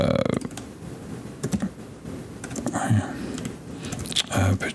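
Computer keyboard typing in brief clicky bursts during a live photo-editing session, close and moderately loud, with a voice talking over parts of it.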